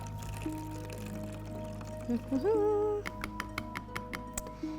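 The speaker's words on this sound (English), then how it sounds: "we are going to stick the vinegar into the water bottle" Vinegar poured through a plastic funnel into a water bottle, a short gurgling pour of a couple of seconds followed by a few sharp taps, heard indoors over a steady low hum.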